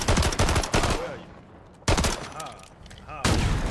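Gunfire from Call of Duty: Modern Warfare III comes in three loud, rapid automatic bursts separated by short gaps, with a voice talking briefly between them.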